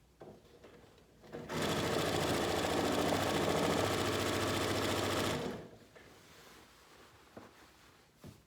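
A sewing machine runs flat out while strips are joined for a jelly roll race quilt. Its fast, even motor hum and needle clatter are close and loud for about four seconds, with quiet room sound before and after.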